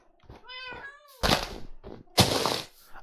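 A Minecraft cat meows a couple of times, clear tonal cries, followed by two loud thumping, rustling hits.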